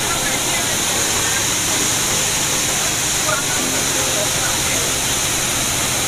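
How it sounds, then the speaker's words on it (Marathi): A continuous, loud roar of falling water at the Susarondi waterfall in Nivoshi, Guhagar, close by and unbroken, with faint voices mixed into the rushing noise. "मस्त असा धबधबा बघा,"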